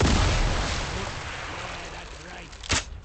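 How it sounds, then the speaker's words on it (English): A booming explosion in the Atomfall video game hits hard at the start with a heavy low rumble, then trails into a long distant roar before a sharp crack near the end. "Don't know where that explosion came from."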